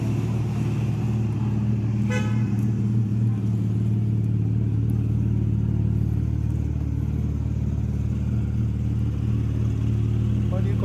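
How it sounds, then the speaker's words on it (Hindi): A car idles at a traffic signal on a Brussels street, a steady low engine hum running throughout amid city traffic noise, with a brief horn-like burst near the start and people talking faintly. "अब इंजन का जो आवाज़ सुन रहे हैं वो इस गाड़ी का है जो सिग्नल पे खड़ी है"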